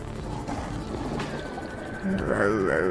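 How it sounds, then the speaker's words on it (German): A Subnautica sea creature growls like a tiger, a low rumbling roar that swells near the end, heard under steady German speech in the underwater game. "Knurrt so wie ein Tiger, ne?"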